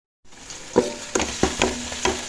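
Onion, tomato, ginger and garlic frying in a pan, a loud, steady close sizzle with several sharp stirring scrapes and clacks across a couple of seconds.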